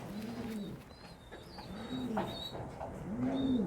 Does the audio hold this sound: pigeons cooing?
yes